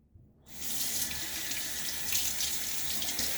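Water running from a bathroom sink faucet for a rinse after a wet shave, the tap opening after a short quiet start and then pouring as a steady, close splashing rush.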